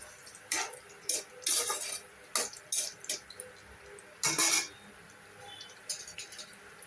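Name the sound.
vegetables added to pan with fried paneer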